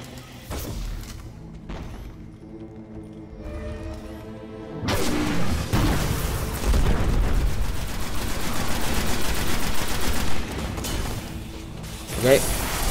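Rapid gunfire and impacts from the video game Destiny crack and thump in dense bursts, with quieter musical stretches between, while a player talks over the action.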